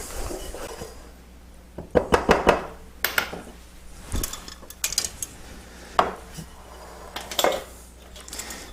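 A bowl of flour, instant yeast and salt being mixed for Sicilian no-knead bread, irregular scraping and clinking of a utensil against the bowl in close bursts separated by quieter pauses, with no talk.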